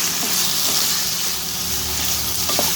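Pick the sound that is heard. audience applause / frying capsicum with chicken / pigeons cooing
frying capsicum with chicken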